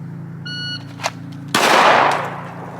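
A Glock 19 pistol fired at an outdoor shooting range: an electronic shot-timer beep, a brief pause, then one sharp, loud, close report with a short ringing decay.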